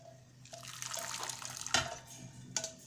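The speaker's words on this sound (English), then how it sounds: "Now we're going to drain the water from the spaghetti." Water from cooked spaghetti is poured off into a sink, a soft running splash with a few sharper spattering bursts, close and fairly quiet.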